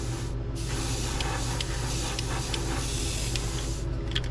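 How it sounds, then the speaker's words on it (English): An airbrush sprays pink paint onto a custom DRT Klash9 swimbait lure painted as a rainbow trout, giving a steady close hiss that runs the full length of the clip with a few short pulses near the end. "we're back with our pink just to touch up this little bit of white overspray I caused there"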